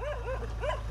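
Several dogs outdoors near a parked car give two rising-and-falling whining yelps, fairly close, over a steady low hum.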